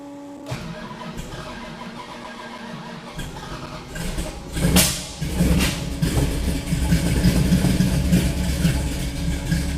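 A 1969 Plymouth Road Runner V8 cranks over after a faint fuel-pump whir, fires with a loud catch and settles into a rough, throbbing idle that grows fuller and louder, close by with no talk.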